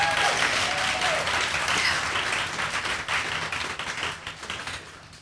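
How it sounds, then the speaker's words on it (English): Audience at a spring gathering for a social impact award breaks into strong applause, a dense wash of clapping that starts loud and gradually thins and fades over several seconds. "all of you deserve a huge round of applause for that."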